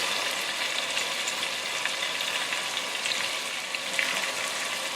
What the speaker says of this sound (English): We're going to fry this